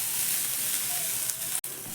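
Onion and green chilli fry in a pan with very little oil, giving a continuous close sizzle and hiss that stays fairly even, with one brief sharp click near the end.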